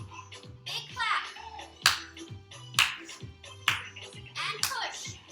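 Single sharp hand claps during a seated chair Zumba workout, repeated in rhythm with an instructor's spoken cues and background music, close and punchy.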